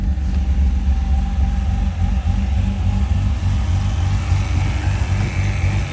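A Mazda RX-8 with a bridgeported rotary engine idles close by, a loud continuous low rumble with an uneven, lumpy pulse and no voices over it.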